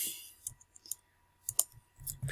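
Computer mouse clicks at a desk, a handful of soft, close taps spaced irregularly over a quiet background.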